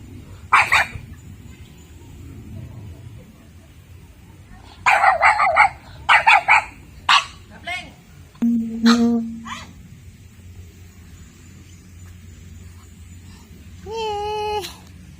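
Dogs barking outdoors on a mountain trail on the way to a waterfall, several loud, separate bursts of barks and yips with quiet gaps between, plus a brief whine near the end.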